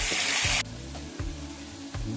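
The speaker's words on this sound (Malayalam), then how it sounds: "അത് നന്നായിട്ട് സോർട്ടാക്കിക്കൊണ്ടിരിക്കുകയാണ്." Chopped chicken with garlic sautéing in a hot pan: a loud burst of sizzle at first that quickly drops to a softer steady frying with a few stirring knocks.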